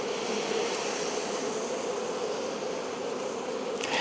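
Honey bees buzzing in a steady dense drone around an opened hive after a swarm, close and continuous throughout.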